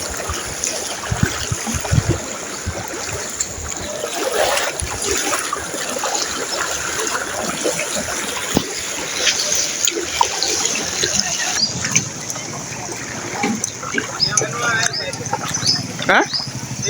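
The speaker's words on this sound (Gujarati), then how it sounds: "બધી શેરીઓમાં એટલું પાણી ભર્યું જો." Monsoon floodwater streams steadily through residential society streets after continuous heavy rain, a constant rushing wash with trickling splashes, voices talking over it throughout.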